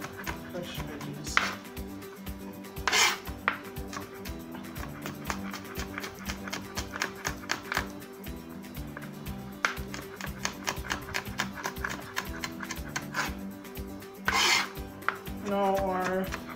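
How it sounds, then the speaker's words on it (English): A knife chops and minces sweet pepper on a cutting board in rapid, steady taps that run almost continuously, with a few louder knocks between the runs. "Then once I'm finished cutting up this sweet pepper"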